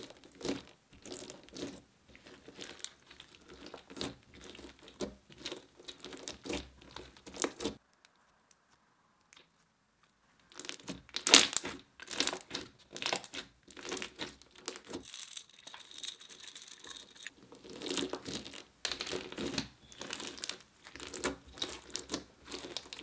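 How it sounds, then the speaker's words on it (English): Beads are worked into a crunchy slime by hand, giving dense, close crackling and crunching pops in rapid irregular bursts, broken by a short quiet pause partway through. "Now I'm going to add even more beads and start mixing it in, and at this point it's just turning into a regular crunchy slime."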